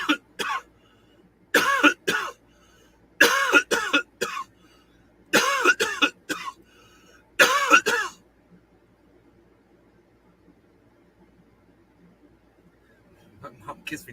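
A person coughs hard after a dab: several clustered bursts of harsh, close coughing across the first eight seconds, then near silence.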